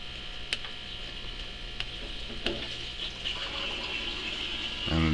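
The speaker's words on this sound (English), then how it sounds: "And the tank is now draining." Water draining from an aquarium tank through garage plumbing during a water change, a steady running, sizzling rush with a few faint clicks, continuous and moderately close, growing slightly louder at the end.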